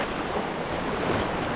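Ocean surf washing against a sunny shore, a continuous broadband rush of breaking waves with wind buffeting the microphone, steady and close throughout.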